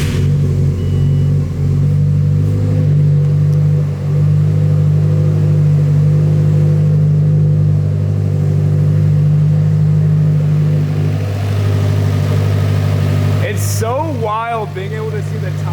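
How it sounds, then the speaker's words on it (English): A Subaru car engine idles while warming up, a steady low rumble, close and loud throughout, with a brief burst of higher-pitched sound near the end. "start the car, actually let it idle this time, get up to temperature"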